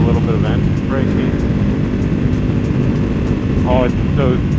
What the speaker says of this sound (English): Feel a little bit of engine braking.